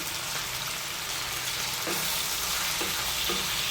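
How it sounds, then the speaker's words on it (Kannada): Hariyali chicken curry with salt added is stirred in a pan, sizzling steadily throughout with a few soft spoon scrapes and no voices. "ಉಪ್ಪು ಹಾಕಿ ಚೆನ್ನಾಗಿ ಮಿಕ್ಸ್ ಮಾಡ್ಕೊಳ್ಬೇಕು"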